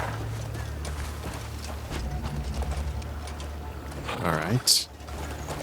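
Horse hooves clip-clopping at a walk in Crimson Desert, a steady soft rhythm of hoofbeats under ambient game sound, with a brief spoken line and a snort near the end.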